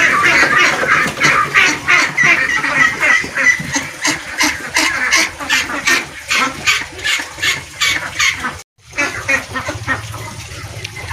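A flock of laying and meat ducks on a duck farm quacks loudly and repeatedly at close range, rapid calls overlapping with splashing and dabbling sounds of feeding.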